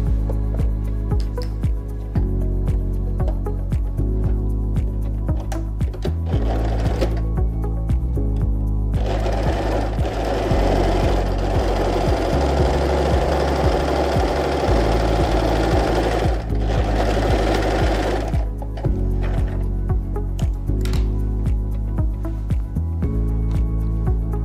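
A sewing machine stitches fabric with a steady, close mechanical hum and rapid needle clatter. It runs in long bursts that change speed, separated by brief pauses.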